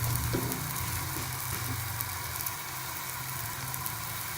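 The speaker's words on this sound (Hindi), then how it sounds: "हमारा तवा गरम हो गया, अब हम इसके ऊपर अपना पराठा डाल देंगे।" An aloo paratha sizzles on a hot tawa, a steady close hiss of frying that runs evenly throughout with a faint low hum underneath and no voices.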